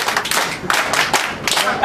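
Audience clapping at a theatre event, a brief burst of uneven claps in loose rhythmic waves, fairly loud and close.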